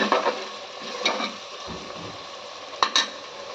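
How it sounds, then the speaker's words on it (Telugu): Turmeric being stirred into a mutton paya curry base as it fries in oil, with soft scraping strokes at a steady rhythm over a light sizzle and a couple of sharper utensil knocks, close by and fairly quiet. "ఇది కూడా మంచిగా కలుపుకోవాలి."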